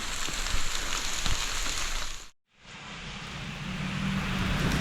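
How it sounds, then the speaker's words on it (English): Heavy rain comes down hard in Hawaii, a dense, steady hiss with a low rumble that drops out briefly partway through, then returns just as loud. "The rain has seriously picked up."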